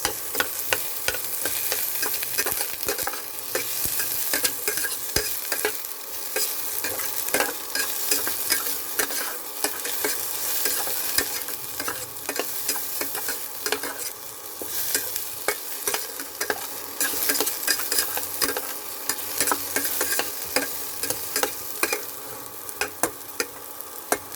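Tomatoes are crushed and sautéed in a pan for a tuna noodle soup, giving a continuous loud sizzle with frequent scraping and pressing clicks from the utensil and no talk.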